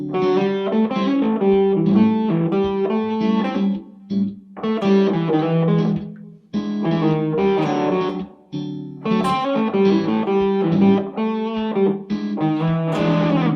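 An electric guitar plays a blues line with some overdrive, picking out guide tones over the four chord in short phrases and sustained notes separated by brief pauses, loud and close with no voice.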